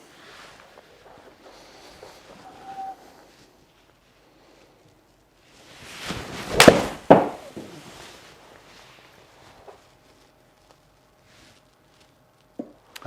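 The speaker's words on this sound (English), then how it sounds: "Let's hit one now with the same club, same golf swing, much less well struck," A single golf club strike on a poorly struck shot, one sharp impact rising out of quiet outdoor wind noise and fading quickly, with a faint click near the end.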